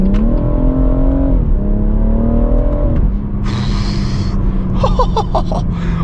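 A BMW M140i on a drive pulls hard through the gears, engine note climbing, dropping briefly at a shift and climbing again, then easing off with a lighter, rising whine near the end, loud and close inside the car.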